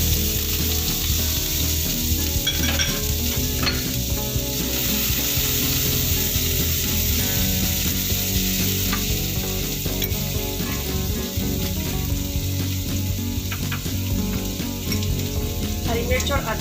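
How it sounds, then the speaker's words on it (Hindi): Onions frying in oil for a paneer pakora stuffing, producing a dense, loud, unbroken sizzle with occasional crackles that lasts throughout, and no one speaking. "प्याज डाल देते हैं"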